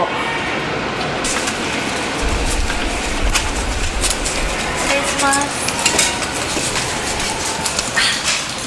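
Dense, continuous clicking of many Japanese soroban abacus beads fills a room, a busy rattling patter with a brief spoken remark nearby.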